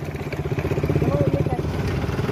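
A motorcycle rides along a rough, broken mountain road in Uttarakhand, its engine thumping in a steady pulsing rhythm up close while someone speaks over it.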